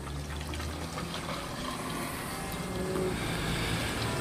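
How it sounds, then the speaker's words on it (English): Half a liter of gasoline is poured into a 1 liter tank, making a steady, continuous liquid rush and gurgle from start to finish, close and fairly loud, with no speech. "Frank's going to fill her up with half a liter"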